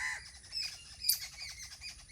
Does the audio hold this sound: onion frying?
no